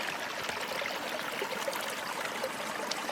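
A mountain stream flows through forest on the Alta Peak trail in Sequoia National Park, a steady close rushing and trickling of water, constant and fairly loud with no voices.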